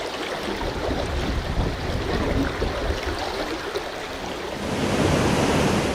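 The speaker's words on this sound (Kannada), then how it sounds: "ನದಿ ಅಪಾಯದ ಮಟ್ಟ ಮೀರಿ ಹರಿಯುತ್ತಿದೆ" Loud, continuous rush of fast-flowing floodwater, a dense roaring wash that swells slightly toward the end, no voices.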